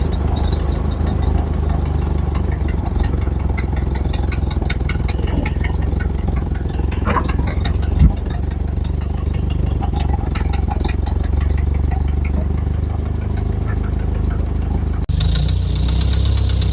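A 1930 Ford Model A engine runs steadily and loudly up close, a continuous low rumbling drone with faint knocking texture and a brief click near the end.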